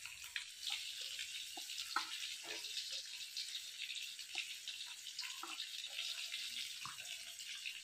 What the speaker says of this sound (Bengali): এই যে অল্প সামান্য এটুকু মশলা মাখানো জল দিয়ে দিলাম, বেশি দেব না।